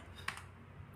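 A single close keyboard keystroke, like the Enter key being pressed, is heard once over a steady low background hum.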